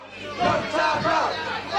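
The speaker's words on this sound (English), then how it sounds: "Crowd informing Rudi not to tap out." Wrestling fans in an arena shout and roar together during a submission hold, a loud sustained crowd din with swelling waves of voices.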